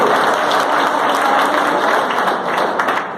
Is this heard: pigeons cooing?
no